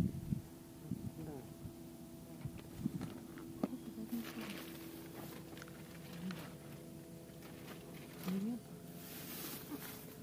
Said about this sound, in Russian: Что-то звук, как лодка моторная где-то, да, едет?